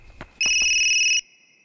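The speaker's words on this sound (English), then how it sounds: "Oh, it's a cell phone!" A cell phone rings in the video game Yomawari Night Alone, a single bright electronic tone lasting under a second after two soft taps, then fading to a faint lingering hum.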